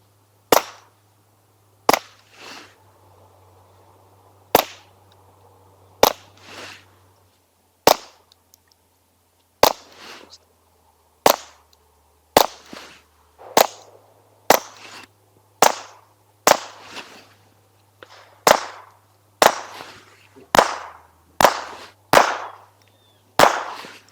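Suppressed .22LR rounds of CCI ammunition fire through a Rex Selentium MG22 suppressor in a long series of sharp, close cracks, about eighteen shots at uneven intervals of roughly one to two seconds with brief tails.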